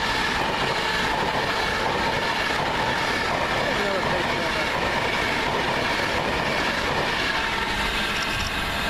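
A Class 390 electric train, unit 390-104, rushes past close by with a loud, continuous rumbling roar and clatter of wheels that lasts the whole time, and someone speaks briefly over it.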